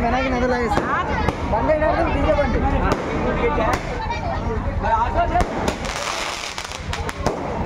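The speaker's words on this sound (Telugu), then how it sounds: "అండ్ బాంబులే పేలుస్తున్నారు" Firecrackers bursting in rapid, loud sharp cracks amid a dense temple festival crowd, with people talking and shouting over the repeated bangs.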